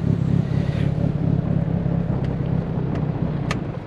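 Car engine fitted with a Tial blow-off valve, revving in a steady, loud rumble with wind buffeting the microphone and a few brief sharp hisses toward the end.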